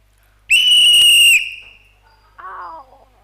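One loud, shrill whistle blast held for about a second, then fading, followed by a shorter, softer, lower tone.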